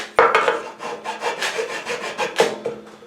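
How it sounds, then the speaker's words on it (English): A hand file scrapes epoxy off the edges of a biscuit box guitar, rapid back-and-forth rasping strokes in an uneven rhythm, close and fairly loud with no talking. "I'm just filing down the epoxy off the edges here"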